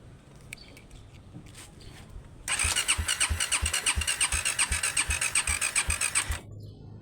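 A Raider 150 Fi motorcycle engine that won't start after a car wash, kickstarted. It gives a sudden rhythmic chugging burst of about four seconds, then cuts out, with faint clatter before.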